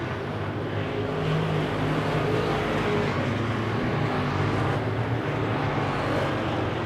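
A Wissota Midwest modified race car engine runs again after restarting, a steady loud roar that holds throughout with no speech.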